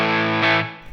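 An Enya Inspire smart guitar on its overdrive preset rings out a sustained, saturated chord, loud and close, fading over about a second.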